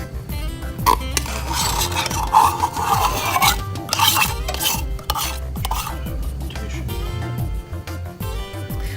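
White chocolate chips, butter and sweetened condensed milk stirred together as they melt in a pot over medium heat on a stove, a steady scraping, rubbing rhythm of utensil against pan, close and continuous with no talking.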